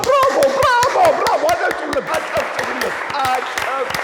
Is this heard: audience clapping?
yes